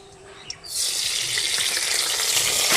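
Hot oil in a kadai erupts into loud, steady sizzling as asafoetida (hing) goes in for a green pea kachori filling, after a brief quiet clink at the start.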